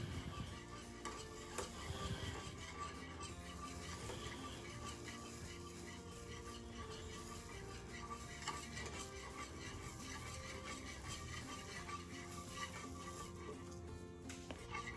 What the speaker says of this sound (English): Now we're going to slowly add and whisk in 1 cup of quick cooking grits.